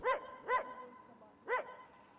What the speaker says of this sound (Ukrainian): Тонна собак постоянно, лаяние, ночью, утром.